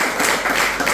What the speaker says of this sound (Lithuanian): Dar kartą plojam Raskilai.